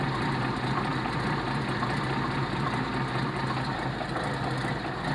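The African Queen boat's engine idles steadily with an old carburettor, a continuous low, rumbling drone holding even and fairly loud throughout with no talk over it.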